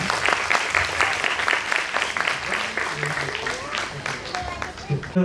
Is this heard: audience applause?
yes